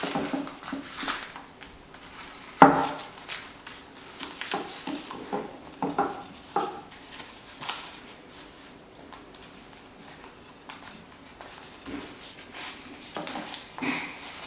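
Paper being rolled around a wooden pot maker to form seedling pots, with soft crinkling, rustling and scattered taps, close and quiet, with one sharper knock early on.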